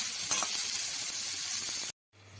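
Bitter gourd pieces seasoned with salt and turmeric fry in oil in a wok, a steady close hiss and crackle with a brief clatter near the start, cut by a short silence before the sizzling resumes.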